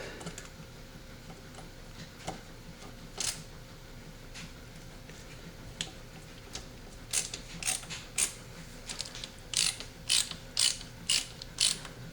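End screw being driven into a Marlin 336 lever-action rifle, quiet scraping turns building to a quick series of sharp ratcheting clicks toward the end, close and without speech.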